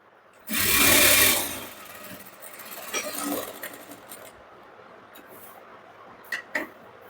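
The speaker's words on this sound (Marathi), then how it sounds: "सर्वात पहिल्यांदा साईडने एक एक शिलाई मारून घ्या" A sewing machine stitches a side seam on a blouse, starting with a loud, fast mechanical whirr for about a second, then quieter intermittent clicks and light handling taps of the fabric.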